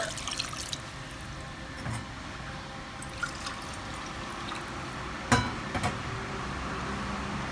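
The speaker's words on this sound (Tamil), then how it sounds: "தண்ணி சேர்க்க போகிறேன் ஒரு கப்புக்கு வந்து ரெண்டு கப் அளவு நம்ம தண்ணி சேர்க்கணும்" Water is poured into mutton biryani masala, two cups for each cup of rice, with a soft continuous pouring hiss, a few faint clinks and a brief louder splash near the end.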